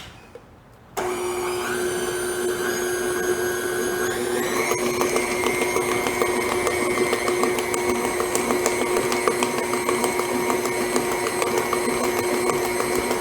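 An electric mixer beats lemon lime Oreo cookie cake batter close by, starting after a brief quiet moment and then running as a steady, loud motor whine that continues without a break.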